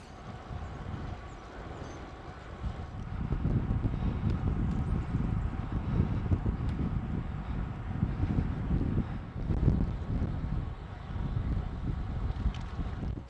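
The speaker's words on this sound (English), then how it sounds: "there's a headwind and I'm finding it hard" Headwind buffets the microphone on an Orbea Gain e-bike ride with the motor off, a loud, gusting low roar that swells and fades in irregular waves.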